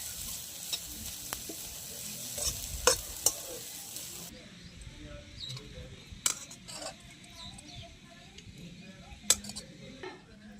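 Egg bhurji with coriander stirred in a pan over a wood-fired chulha, a soft steady sizzle with scraping spoon strokes and a few sharp metallic taps of utensil against pan.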